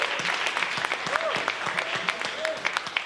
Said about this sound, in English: can we get one final round of applause for all of our panelists and our presenters?